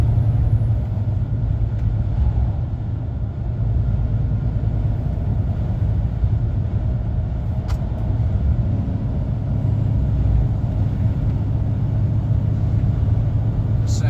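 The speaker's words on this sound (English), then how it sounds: "Both trucks pass each other." From the cab of a heavy goods vehicle on the A66 in Cumbria, two trucks pass each other, a steady deep engine rumble and road roar that thickens slightly as the other lorry goes by, with no speech.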